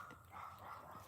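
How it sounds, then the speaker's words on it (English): Several neighbouring dogs bark nearby at a ranch, a steady layer of barking and yapping that stays fairly constant at a moderate distance throughout the short stretch. "Sorry about those dogs barking."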